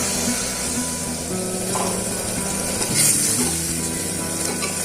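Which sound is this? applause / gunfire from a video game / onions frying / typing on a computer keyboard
onions frying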